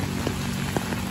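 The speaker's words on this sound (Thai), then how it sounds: "ฝนตกค่ะฝนตก" Steady rain falls on a street in Narathiwat Ratchanakarin Soi 10, a continuous soft hiss with scattered faint drops throughout and no voices.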